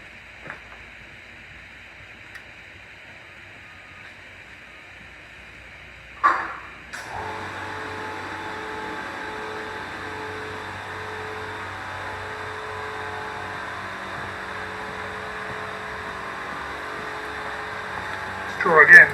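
An air compressor starts up in a garage during work on a Vauxhall Meriva, kicking on with a thump midway and then running with a steady, fairly close motor hum until the end after near silence.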